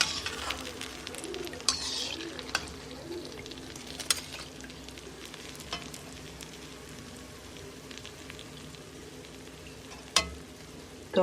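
Kachoris fry in oil over a full flame, giving a low, steady sizzle. Sharp clicks and knocks from a utensil break in now and then, and faint bird coos sound in the background. No one talks.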